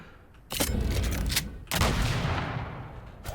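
A ranged attack fired by the hero Florence in the fantasy strategy game Age of Wonders 4 lands as two loud, booming blasts about a second apart, each a broad burst of noise that trails off slowly, with no voices.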